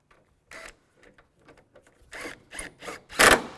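Screws are snugged down on a headlight assembly of a 2005-2010 Chevrolet Cobalt with a tool, producing scattered close ratcheting clicks that grow into louder mechanical bursts near the end.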